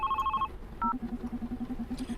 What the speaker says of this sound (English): Should I pick up the phone?